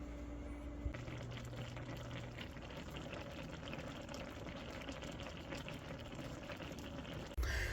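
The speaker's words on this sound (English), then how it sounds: "Supposed to sit and watch and see when it comes to a decent boil, which I already see it bubbling in a couple spots" Polynesian-style Spam stir fry sauce comes to a boil in a cast iron pan, a steady low bubbling and sizzling that runs on without pause at close range.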